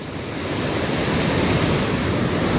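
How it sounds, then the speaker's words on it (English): Very fast flowing water rushing at a dangerous landscape location, a loud, steady, dense roar that continues without a break, close to the microphone. "it's very fast flowing water"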